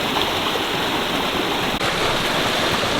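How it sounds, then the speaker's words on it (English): Stream water rushing steadily past a water wheel in Iceland, a dense, continuous broadband wash close by with no break or talk. "there's a water mill, or at least a water wheel"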